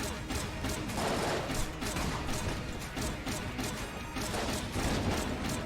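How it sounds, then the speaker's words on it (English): Explosions in the video game Enter the Gungeon come as a dense, continuous barrage of crashing blasts and gunfire-like bursts, all of moderate loudness with no pauses. "These explosions were doing a great job of actually destroying his projectiles in the air."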